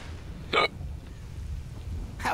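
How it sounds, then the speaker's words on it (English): A character in S.T.A.L.K.E.R. Call of Chernobyl hiccups twice, short sharp gulps spaced well apart, heard over a steady rainy, rumbling ambient background. "How I seem to have developed a case of the hiccups."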